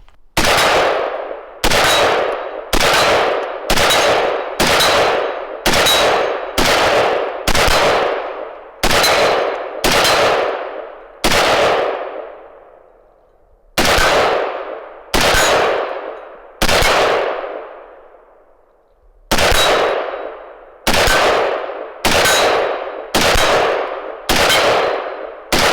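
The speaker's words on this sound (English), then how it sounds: "So let's run a few rounds through this magazine, establish a baseline" A rifle fires rounds from its magazine in loud, sharp single shots at a quick, fairly regular pace, with a few longer pauses between groups of shots.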